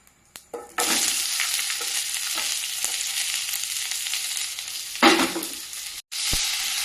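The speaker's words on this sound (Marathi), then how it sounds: "आता उरलेल्या तेलामध्ये मी कांदा टाकणार." Onion frying in leftover oil for a Sunday dosa and coconut chutney meal, a loud steady sizzle that bursts in after a brief pause, swells again near the end, cuts out for a moment, then returns with no talking.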